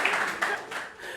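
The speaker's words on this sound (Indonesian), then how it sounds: "Beri tepuk tangan untuk teman saya." A university lecture class gives a short burst of clapping for a fellow student, a small group of hands patting briefly and fading within a second.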